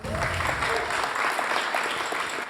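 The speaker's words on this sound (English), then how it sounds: "Big applause." Steady, full applause from a crowd at a first-anniversary celebration at The Pool, dense clapping that holds evenly throughout at moderate loudness.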